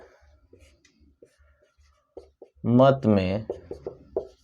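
Short soft scratchy strokes of writing on a board, several faint taps spread apart, with someone speaking over the later part.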